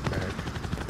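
Helicopter gun bursts in Call of Duty: Modern Warfare (2019), rapid pulsing cannon fire over a thick rotor drone, loud and close in a very brief burst.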